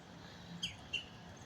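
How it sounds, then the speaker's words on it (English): A woodpecker calls from trees on a rainy day, two short, sharp, high notes about a third of a second apart, faint and distant over a soft wash of rain. "I hear a woodpecker."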